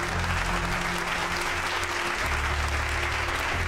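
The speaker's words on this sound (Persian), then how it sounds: "تشویق داره." Studio audience on a Persian TV quiz show claps in loud, sustained applause, a dense wash of hands lasting several seconds with no talk over it.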